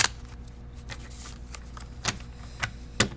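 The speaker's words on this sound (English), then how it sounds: "let me shuffle." SAFMEDS flash cards are shuffled up close, giving soft papery riffles and several sharp flicks and taps over a few seconds.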